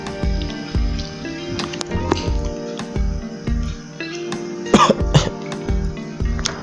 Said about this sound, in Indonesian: Batuk gua nih